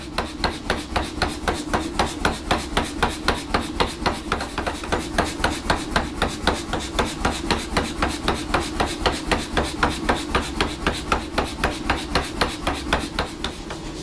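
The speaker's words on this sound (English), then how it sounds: "what I'm going to do now is I'm going to hammer a texture in this" Stainless steel being hammered to raise a surface texture, a fast, even series of sharp metallic blows repeating steadily at close range for the whole stretch, with no talking.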